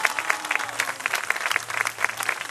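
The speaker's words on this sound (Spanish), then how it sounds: "aplausos" Applause from a crowd at a fair performance by a fine-arts school troupe during an Easter expo in Tuzantla, with steady clapping throughout and a faint low hum beneath.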